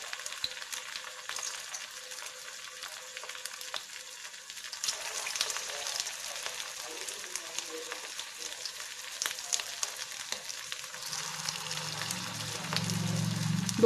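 Sweet corn balls deep-frying in hot oil make a continuous crackling sizzle with fine popping, growing a little fuller and adding a low bubbling rumble toward the end, with no voices.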